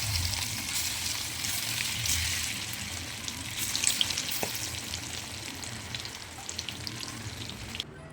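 Chicken pakoda deep frying in hot oil, a steady close sizzle and crackle running throughout with a few faint clinks, no voices.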